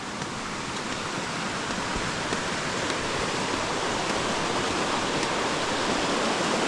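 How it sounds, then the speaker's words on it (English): Water roars under a bridge on a trail, a loud, steady, close rushing hiss that holds unbroken throughout. "roar of water in there"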